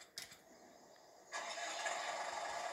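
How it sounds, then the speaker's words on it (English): A tractor engine in the Farming Simulator 19 game cranks briefly, then catches and settles into a steady running hum with a slight rise in revs, fairly quiet and heard alone. "Is that your tractor there now? Right, put the revs on her."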